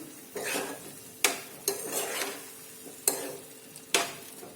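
A spoon scrapes and stirs green chillies coated in flour in a pan over a slow to medium flame, with several distinct scraping strokes, some sharp clinks against the metal and a soft sizzle between them.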